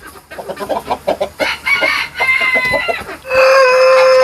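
Ameraucana chickens cluck in a rapid, close stream of short calls that builds into louder, sustained squawking near the end, loud and without talk.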